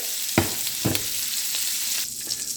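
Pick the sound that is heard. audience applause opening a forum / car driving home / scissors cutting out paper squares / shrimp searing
shrimp searing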